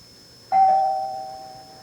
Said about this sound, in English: Maybe it was your doorbell?